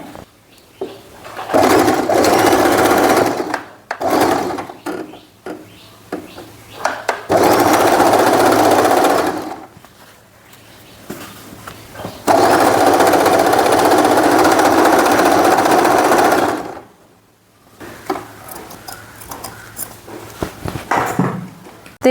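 A sewing machine stitches a half-inch folded hem along the side of a dining chair cover, running in several loud, steady bursts of rapid whirring separated by quiet pauses.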